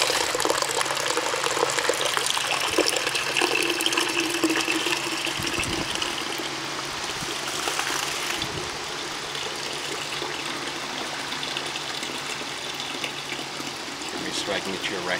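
Free-run red Zinfandel grape juice pours steadily from a wine press without pressing, a continuous gushing, splashing flow heard up close with occasional clanks and muffled voices nearby.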